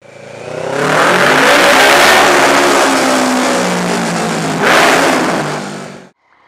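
A 2013 Triumph Street Triple R motorcycle engine revs hard and close, climbing and holding high for several seconds, surging again briefly before cutting off to near silence.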